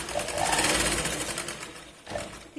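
A sewing machine runs a diagonal seam on a katori blouse, whirring rapidly up close, pausing briefly near the end, then starting again.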